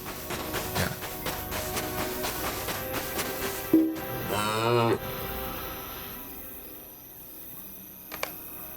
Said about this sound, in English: There was a cow in here.